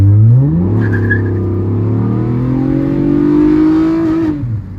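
A 2000 Honda Accord V6 engine revs hard and loud up through the range into VTEC, its pitch climbing steadily to a high scream before dropping off at the end.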